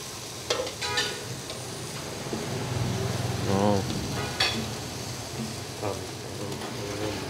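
Pork for broken rice sizzling on a grill at a back-alley eatery, a soft steady sizzle with scattered clinks and a brief rising hum in the background, fairly faint.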